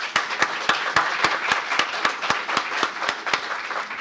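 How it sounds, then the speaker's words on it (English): Panelists at a York College mini conference receive applause, heard as a sparse, fairly faint round of distinct claps in a steady rhythm, few hands and roughly evenly spaced. "Let's give the round of applause to the panelists up here."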